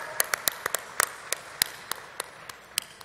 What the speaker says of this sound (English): How about a great round of applause for that support?